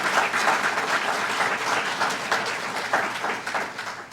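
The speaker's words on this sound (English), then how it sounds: "give Molina Healthcare of Illinois a round of applause" An audience at a scholarship keynote event applauds for Molina Healthcare of Illinois, a steady, sustained wash of many hands clapping in a large room, with no talking over it.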